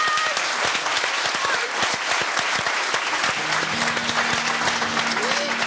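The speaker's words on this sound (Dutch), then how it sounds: "mag ik een groot applaus, dames en heren" A studio audience on a Dutch talk show claps loudly and steadily as a singer is welcomed, a dense sustained applause, with faint tonal music beginning to rise beneath it toward the end.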